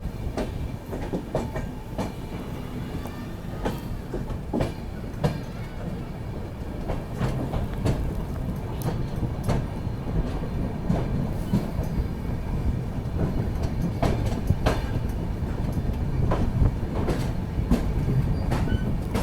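A passenger train on the New Delhi to Srinagar line, running through rocky Kashmir terrain, rumbles with steady wheel clatter and rhythmic clickety-clack, heard close from on board, continuous and unbroken, with no talk.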